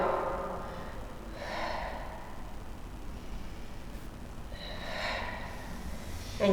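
Two soft, breathy exhales while rising out of a middle split stretch, each a gentle airy puff a few seconds apart, close and quiet over low room hiss.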